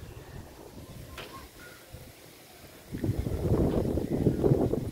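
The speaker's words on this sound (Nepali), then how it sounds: "हावा निरन्तर चलिरहेछ" Wind blowing outdoors at sunset on a hillside among trees, a steady low rush that swells into stronger, louder gusts in the second half, with no voices.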